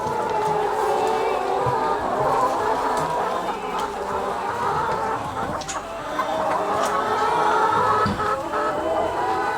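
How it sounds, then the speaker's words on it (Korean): Chickens clucking inside a poultry house holding white roosters and red hens, a continuous busy chorus of clucks and calls with mechanical hum in the background, no talk. "지금 여러분들은 양계장 안의 모습을 보고 있습니다."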